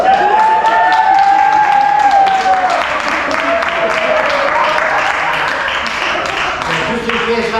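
A live audience applauds to welcome speaker David Brooks onto the stage at a talk, a steady, sustained wash of clapping and crowd noise holding at full loudness throughout, with some cheering over it.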